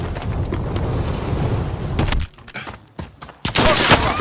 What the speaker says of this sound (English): I'm shooting at your bro.